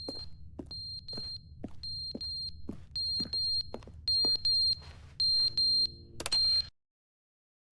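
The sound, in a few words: beeping from a button in the video game The Stanley Parable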